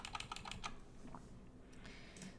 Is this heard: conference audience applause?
no